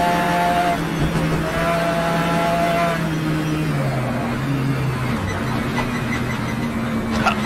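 Car engine held at wide open throttle in a driving video game, a loud sustained drone whose pitch holds steady, then dips and settles lower, running continuously and alone.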